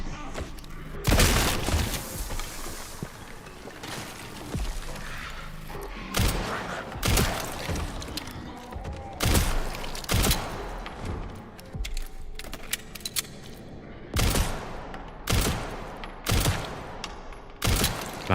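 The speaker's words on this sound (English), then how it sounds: "I'm like a fucking sniper with this pistol, but now I'm out of ammo." Pistol shots in the video game Resident Evil: Requiem, a dozen or so sharp, loud reports fired in uneven bursts with brief gaps between them, alongside other in-game sounds.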